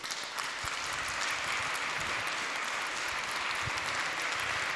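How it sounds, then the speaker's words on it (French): Continuous crowd applause at a conference on the digital environment, an even wash of many hands clapping at moderate loudness throughout, steady without pauses. "Je pense qu'on peut vraiment l'applaudir."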